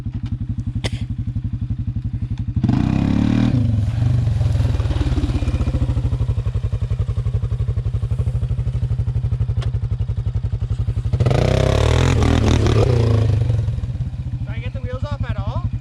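A Honda Rincon 680 ATV on Gorilla Silverback tires idles with a steady, close throb, then roars up in two hard revving bursts during reverse wheelie attempts, with clattering in between.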